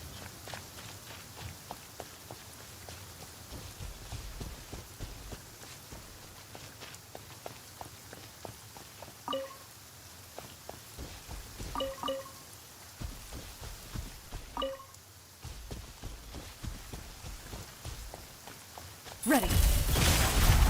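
Rain falling in the game Genshin Impact, a steady soft patter throughout, overlaid with scattered footsteps and a few brief tonal chimes, then a sudden louder burst of noise at the very end.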